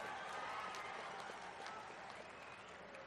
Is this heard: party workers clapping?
yes